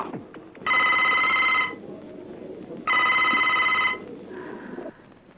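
A telephone at a police station rings in two long electronic bursts separated by a pause, then a shorter third ring, loud and close.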